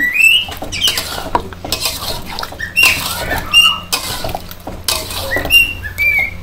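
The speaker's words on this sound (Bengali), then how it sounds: "মশলার সাথে ভালো করে মাংস আর আলু কষে নিব।" Duck meat and potatoes being stir-fried with spices in a pot in a Bangladeshi village kitchen, with a steady scrape and clatter of a utensil against the pot, close and fairly loud, with no talk.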